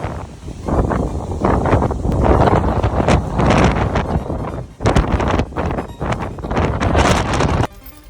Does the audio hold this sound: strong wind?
yes